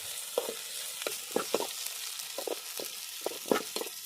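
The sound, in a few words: onions frying in oil on a grill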